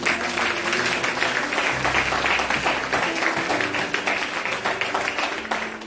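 Audience at a French-speaking church service breaking into steady, dense applause with cheering mixed in, loud and close, fading slightly toward the end.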